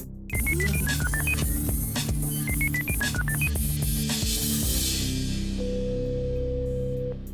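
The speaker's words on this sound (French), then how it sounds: "La régie fait le numéro." A telephone number is dialed as a quick run of keypad tones in two bursts, followed by a long, steady ringback tone, all loud and clear with no talking.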